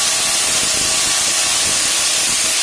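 A loud, continuous hissing roar from a drill boring into cave rock to set an anchor, steady and close with no voices.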